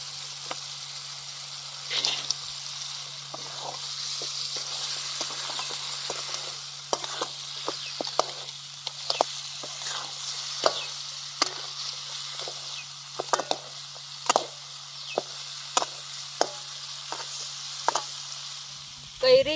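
Crabs frying in cooked masala in a pan, a steady close sizzle with scattered crackles and pops throughout, no talking.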